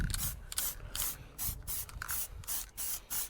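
Aerosol spray paint going onto car wheels during a home respray of Celica wheels, a run of short hissing bursts with brief pauses between them, close and steady, with no talking.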